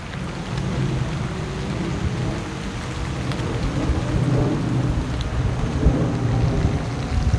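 Heavy rain falls during a July scooter commute through suburban Stockbridge, Georgia, a dense, steady hiss over a low rumbling roar that runs without a break and has no voices.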